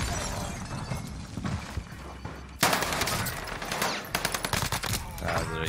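Gunfire in Call of Duty Warzone during a 2v2 tournament match, loud dense bursts of automatic fire with sharp repeated cracks, coming in clusters over game ambience.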